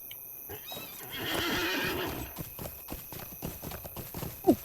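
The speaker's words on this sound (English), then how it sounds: "Mount on my horse." A mounted horse in the online game LOTRO whinnies loudly, then its hooves clip-clop in a steady rhythm. A sharp snort or neigh rises near the end.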